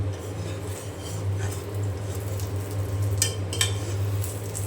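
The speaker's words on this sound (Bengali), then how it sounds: "আর এখানে ডিম ভেজে নিচ্ছি।" An egg is fried and stirred in a pan for a breakfast bhaji, heard as soft sizzling with occasional spatula scrapes and clinks over a steady low kitchen hum.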